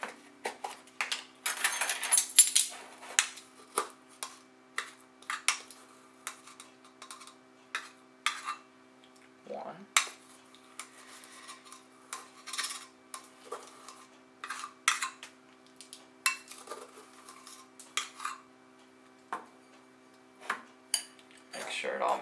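Chocolate chip muffin batter being mixed in a bowl, a long run of scattered clinks, scrapes and taps of a utensil against the bowl, irregular and fairly quiet, with a voice talking now and then.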